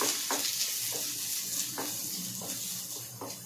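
Small onions (shallots) frying in a pan of oil for a mutton curry, giving a steady close sizzle with a few soft stirring scrapes spaced through it.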